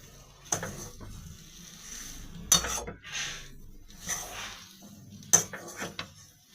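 A few sharp clinks of a spoon against a pan punctuate soft scraping as fish chop mixture with bread crumbs is stirred, quiet between the knocks.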